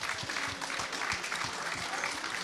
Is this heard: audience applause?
yes